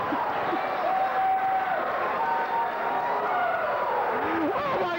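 Dense, steady crowd noise from a pro wrestling event fills the hall with cheering and a continuous roar, over which an announcer keeps talking throughout.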